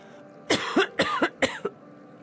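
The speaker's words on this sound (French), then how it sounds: "Cette toux ne s'arrête pas." Three harsh coughs in a row, each a quick double burst, sound close and fairly loud against a quiet background, with a small throat-catch after the last one.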